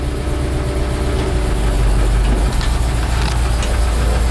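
The V8 in a 1967 Toyota FJ45 idles steadily and loudly up close, a deep, rumbling engine drone that holds even for the whole stretch with no voices over it.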